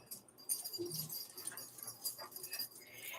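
A pet dog whimpers in a quiet room, with short faint whines and squeaks scattered across a few seconds and no one talking.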